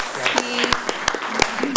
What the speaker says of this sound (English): A final round of applause for all of our YCOE Excellence in Education honorees.